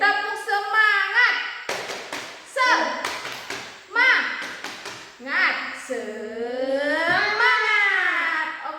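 A classroom of children does the "tepuk semangat" spirit clapping routine: bursts of sharp group claps alternate with loud chanted, sing-song voices, close and lively, in a rhythmic call-and-clap pattern.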